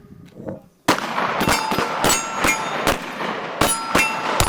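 Loud, close gunshots during live-fire tactical combat casualty care training in Nashville: a sharp first crack followed by a rapid string of roughly eight more shots in an uneven rhythm, with rumbling echo between them.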